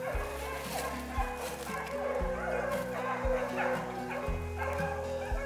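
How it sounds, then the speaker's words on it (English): Hunting dogs bark and yip repeatedly during a swamp rabbit hunt in Oklahoma, with whimpers mixed in, moderately distant, while people talk over them. "We'll let the dogs find it."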